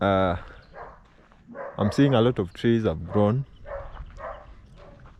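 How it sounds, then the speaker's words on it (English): Dogs bark in the background of a village near Nyabohanse while someone talks up close over them. "if at the background maybe you can hear some dogs barking"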